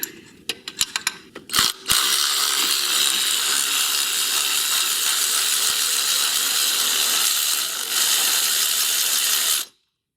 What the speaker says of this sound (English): I'm up here with my ratchet, which I had to put on an extension.